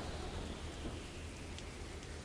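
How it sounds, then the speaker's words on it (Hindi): Light rain used as a sound effect in a story keeps up an even, close hiss with a soft low rumble underneath, with no voices over it. "अगले दिन सुबह हल्की हल्की बारिश हो रही होती है।"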